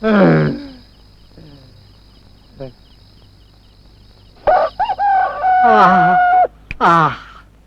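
A rooster crows loudly in a rural village yard, one long wavering call following a stretch of talk, with a shorter cry after it.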